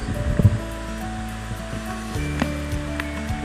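Steady broadband rush of water pouring at San Ysiro Falls, a continuous roar filling the scene with no clear breaks, fairly loud and close.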